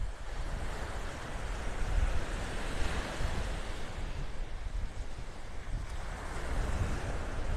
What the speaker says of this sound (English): A breeze coming out of the north. A couple good gusts every now and then.